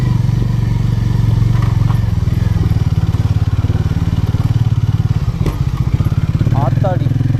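A motorcycle rides off-road on a summer trip near Valparai, its engine a loud, steady close rumble with rattling clatter over rough ground, while people talk over it.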